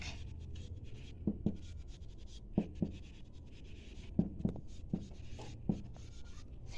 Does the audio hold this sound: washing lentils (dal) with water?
no